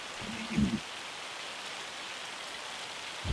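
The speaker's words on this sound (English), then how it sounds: "Now I'm going to wait for it to stop hailing." Hail falling in Farming Simulator 25, a steady hiss of pellets striking surfaces throughout, with a couple of brief low thumps.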